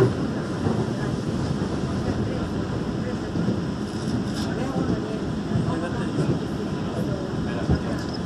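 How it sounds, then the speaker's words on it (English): A Seoul Line 1 express subway train bound for Yongsan runs along the line, a steady rumbling roar with rattling carriages and track noise that holds at an even level throughout. "This express train is bound for Yongsan."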